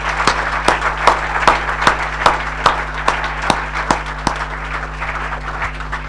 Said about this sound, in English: Can we please give Aaron a big round of applause?